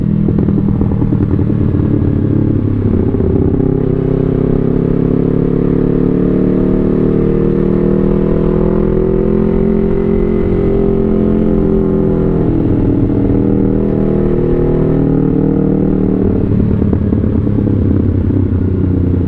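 A Yamaha YZF-R3 motorcycle with an aftermarket exhaust rumbles steadily at close range, its deep exhaust note rising and falling slightly with light revving throughout.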